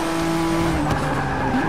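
Ford GT race car at full throttle in Forza Motorsport 6, a steady loud engine drone with a high sustained tone and faint tire noise throughout, no talk over it.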